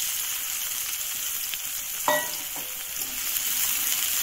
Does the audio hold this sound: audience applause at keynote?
no